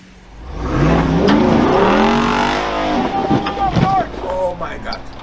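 A Smart ForTwo engine revs up during an off-road attempt and holds a rising, buzzing pitch before dropping back, with people talking nearby.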